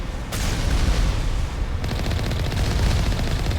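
Heavy gunfire and turret blasts in Mass Effect Legendary Edition combat form a dense, continuous barrage with a sharp onset, loud and close throughout.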